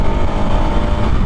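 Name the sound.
Bajaj Pulsar RS 200 single-cylinder motorcycle engine with stock exhaust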